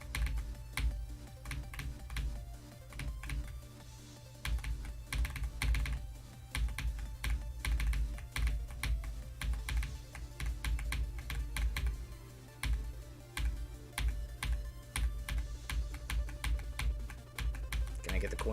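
Fast, constant keystrokes on a computer keyboard during gaming, with dense clattering taps that barely pause over nearly twenty seconds, loud and close, with some talking underneath.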